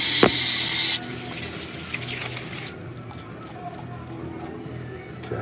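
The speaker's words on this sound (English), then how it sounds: "Come in here and wash these hands." A tap runs loudly as hands are washed under it, a strong rushing stream for the first few seconds, then the water stops and faint clicks and handling noises follow.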